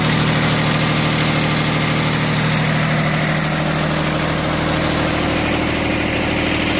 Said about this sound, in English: This is on a Mitsubishi